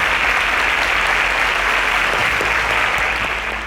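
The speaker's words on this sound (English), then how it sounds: "Round of applause for them." Dense, loud audience applause in a quiz show studio, a steady wash of many hands clapping without a break, holding at full strength and fading slightly only at the very end.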